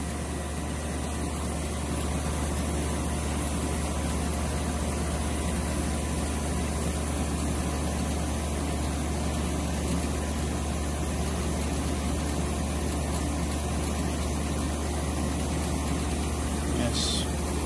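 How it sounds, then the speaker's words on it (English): An Edwards E306A vacuum pump runs while pumping down, a constant low droning hum that holds steady and loud throughout with no break. "Turn this on, put this on range one. You can see right there, this is starting to pump down."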